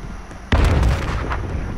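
A single loud, close gunshot bursts out in Call of Duty: Modern Warfare, its heavy boom trailing into a rumbling decay after a quiet start.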